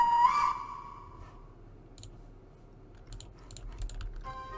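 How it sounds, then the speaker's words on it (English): A steam engine whistle gives one short tonal toot at the start, then fades into faint background hiss broken by scattered light clicks. "Then they heard a whistle."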